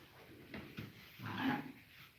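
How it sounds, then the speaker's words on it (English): A dog in a lambing barn among sheep gives a few soft, short yips and whimpers, faint and fairly close against a quiet barn background. "Not playing, silly dog."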